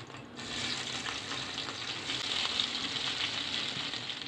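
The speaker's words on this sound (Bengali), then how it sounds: "এই পর্যায়ে আমি টমেটোগুলো ভেজে নিব।" Tomatoes fry in hot oil in a pan with a steady close sizzle that swells slightly after a brief quieter start, and no voices.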